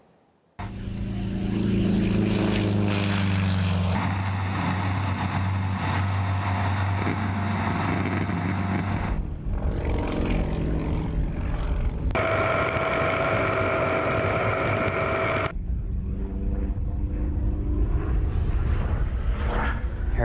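Aerobatic propeller plane flying stunts, a loud sustained engine drone that rises and falls in pitch through dives and climbs, with abrupt tonal shifts and strong roaring passes, no voices.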